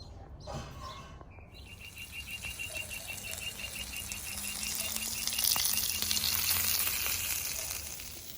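Italian hoagie fillings sizzle on a Blackstone griddle, a soft, steady frying hiss that grows slightly louder, with faint bird chirps in the background.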